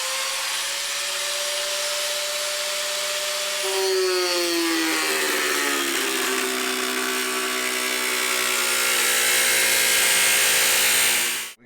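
Steady, loud whine of an angle grinder using a cut-off wheel and a flap wheel on metal during a sound bar and speaker upgrade. The pitch dips as it bites into the work and then holds continuous for about ten seconds before cutting off.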